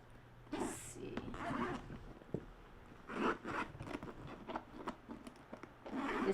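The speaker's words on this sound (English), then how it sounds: "nice and smooth zipper" A Michael Kors handbag zipper being drawn open in several short, scratchy pulls, fairly close and soft, with pauses between strokes.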